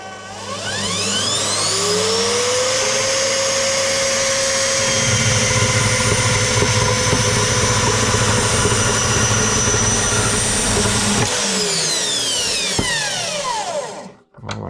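A Parkside PMB110 B2 metal band saw running flat out at speed 6, cutting into the corner of a metal piece. It gives a loud, steady mechanical whine and grinding hum for about thirteen seconds, with a rising tone at start-up and a falling tone as it stops.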